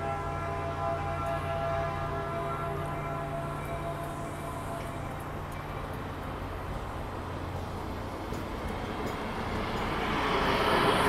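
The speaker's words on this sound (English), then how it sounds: "there go that train. That train is off to San Jose southbound on the northbound platform" A Caltrain commuter train rumbles steadily with a low droning hum and sustained tones as it departs Mountain View Station southbound to San Jose, growing slightly louder near the end as it pulls away, with no talking.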